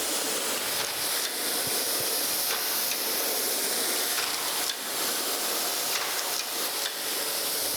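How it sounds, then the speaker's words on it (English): A surface grinder's wheel working a hardened steel taper gage with a one-inch-per-foot taper, giving a continuous bright hissing, spraying rush that holds steady and loud throughout with slight swells. "then we'll flip it over and we'll grind the other side"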